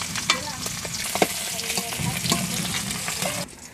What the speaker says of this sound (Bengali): মাছটা আমার ভাজা হয়ে গেছে